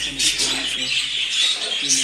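Budgerigars chirp and twitter busily nearby at a breeding setup, a continuous high chatter, with a voice murmuring quietly underneath.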